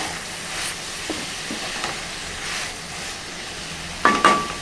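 Brinjal and tomato curry with turmeric, Telangana style, softening in a pan. It gives a low, steady simmering sizzle, with a couple of brief utensil knocks toward the end.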